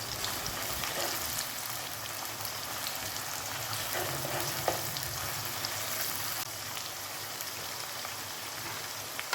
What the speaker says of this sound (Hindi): उसमें जिंजर गार्लिक पेस्ट डालेंगे और उसको इतना भूनेंगे कि उसकी रॉ स्मेल ख़त्म हो जाए